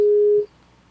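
A telephone busy signal sounds once as a loud, steady single-pitch tone lasting under half a second, then cuts off to faint line hiss.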